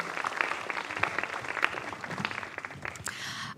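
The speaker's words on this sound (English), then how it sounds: "And a big round of applause, please," A crowd applauds continuously at a fulldome festival award gala, a dense patter of many hands clapping that thins slightly toward the end.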